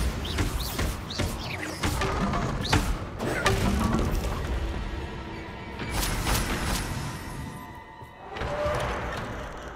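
In Hogwarts Legacy, the Bombarda blasting spell sets off a series of explosive thuds and crashes inside a haunted Hogsmeade shop, heavy impacts and debris clatter arriving in bursts, loud and close.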